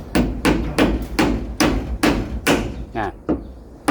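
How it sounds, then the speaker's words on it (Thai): Nails meant for roofing sheet are hammered into hard wood during a home repair, with about nine sharp, close blows in a steady rhythm that loosens slightly toward the end. "ตะปูนี่มันตอกบ่ได้นู่นตะปูตอกไม้"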